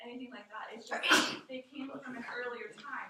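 A single short sneeze bursts out near the middle of a stretch of steady classroom lecture speech, partly masked by the talking voice.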